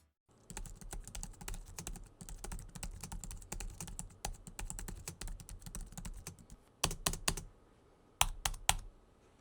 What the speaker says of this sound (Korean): 타건음 잠시 듣고 오겠습니다.